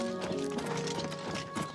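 Rhythmic clip-clop of horse hooves mixed with a whinny in the game Oblivion Remastered, steady trotting beats layered with tonal neighing and background game ambience.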